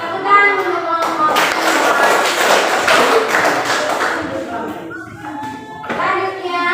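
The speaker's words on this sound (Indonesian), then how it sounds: "tepuk tangan untuk kelompok" A classroom of pupils claps for a group after its presentation, a loud burst of sustained hand clapping lasting several seconds that fades briefly and then flares up again, with children's voices mixed in.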